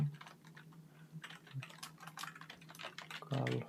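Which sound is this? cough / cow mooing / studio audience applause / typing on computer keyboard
typing on computer keyboard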